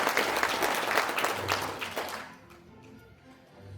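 Indoor audience applause at a rally in a National Assembly members' office building conference hall, a dense burst of clapping that fades after about two seconds, leaving quiet room tone.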